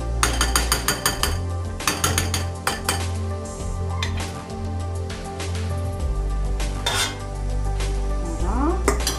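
A spoon stirring a diet chocolate mousse mixture in a bowl, with repeated close clinks and scrapes against the dish and a soft continuous background hum throughout.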